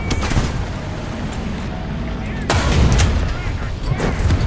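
A tank cannon fires in War Thunder on the Cargo Port map, a loud booming blast with a rumbling tail and a second heavy report midway.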